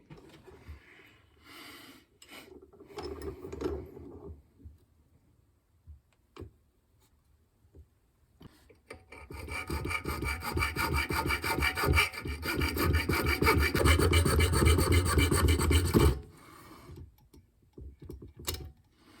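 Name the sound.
grinding down a plastic GoPro mount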